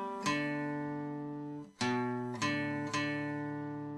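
Acoustic guitar lick from a song's solo: four clear plucked onsets, a first note ringing long, then three quicker struck notes sustaining, played alone and close.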